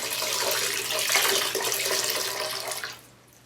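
Water squeezed and streaming out of a rabbit hide during tanning, a continuous splashing trickle into a container that stops abruptly near the end, close and fairly quiet.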